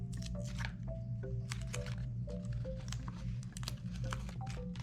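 A paper plate hedgehog craft is pressed and squished together by hand, giving soft crinkling and squishing noises in quick irregular bursts, faint and close, over a low steady hum.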